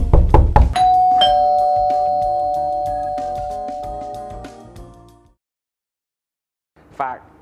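A bell ding sound effect rings out: a bright struck tone with a long sustained ring over low musical accompaniment, fading after about five seconds, followed by silence and a brief short tonal blip near the end.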